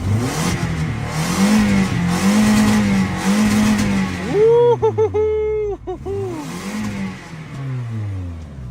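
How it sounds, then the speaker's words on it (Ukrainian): A cheap used car engine, smoking slightly, rumbles and revs repeatedly, rising and falling in pitch, loud and close, with a few sharp higher-pitched revs in the middle. "Отаку вурчащу машину."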